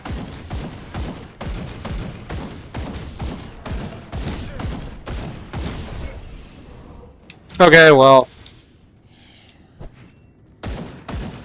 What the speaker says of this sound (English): Just a whole lot of, gunfire